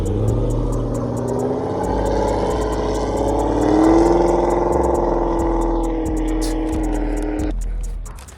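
A Corvette drives by outside, a steady mid-pitched engine note that swells as it nears, then cuts off abruptly, with faint clicking and clatter over the top.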